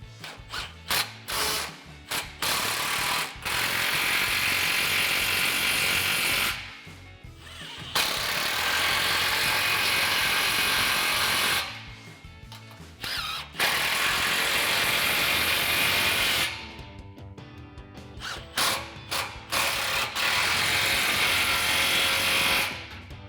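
A ratchet tightens exhaust clamps on a Flowmaster muffler of a RAM 1500, close, rapid clicking in long sustained runs separated by short pauses and a few slower individual clicks.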